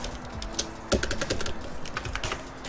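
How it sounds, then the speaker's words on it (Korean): Computer keyboard keys clack in a quick, uneven string of presses while drafting in AutoCAD, close and moderately loud against faint background hum. "그다음 엔터 한번 치시고"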